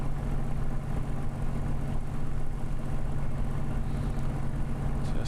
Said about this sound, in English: Just listening to the engine.